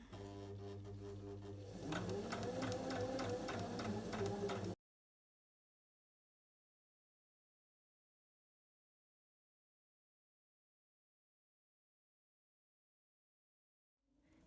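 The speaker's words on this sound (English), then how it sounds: "So you're just going to stitch a straight line down it." A sewing machine stitches a straight line on a Liberty bow tie, a rapid rhythmic mechanical whir lasting a few seconds, then silence.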